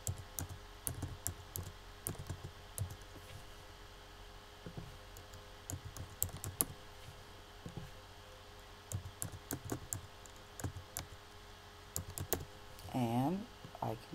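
Quiet bursts of typing on a computer keyboard as words are entered into a spelling list, with irregular clicking keystrokes and short pauses, recorded close and faint.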